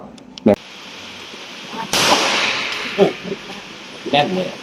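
Rock Island 1911 A1 .45 pistol with a 5-inch barrel and all-steel frame firing about four sharp, loud shots, with speech around them.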